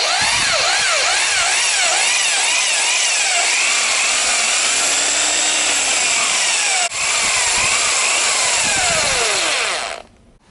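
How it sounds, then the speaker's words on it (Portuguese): A loud, continuous whirring of a power drill with a mixer attachment stirring paint, its pitch rising and falling as it churns, then it stops abruptly. "prendi na furadeira e vou misturar por poucos minutos"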